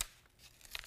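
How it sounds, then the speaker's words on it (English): Paper is folded back along a stitched seam on a Snail's Trail quilt block, a soft, brief crinkle and rustle, faint and close, ending in a small crisp crackle. "we want to fold back on our paper just like this"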